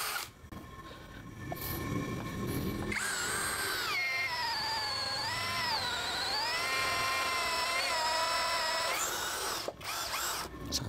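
A Miyota D8216c cordless drill in drilling mode at variable speed 2, boring with a 16 mm auger bit, whines loudly and steadily with a rising and falling pitch for several seconds, starting and stopping abruptly.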